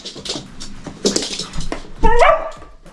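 A dog barks and yips up close, with a few short whiny barks and then a louder high-pitched yelp-like bark near the end, loud and alone.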